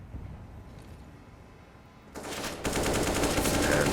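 Counter-Strike match gunfire, with rapid automatic shots from an AK rifle that break in loudly after a quiet stretch and keep rattling densely to the end.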